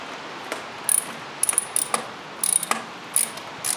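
A hand ratchet turns out a single T30 Torx screw holding the power steering reservoir on a Mercedes C63 AMG, giving short bursts of rapid metallic clicking with brief pauses between strokes.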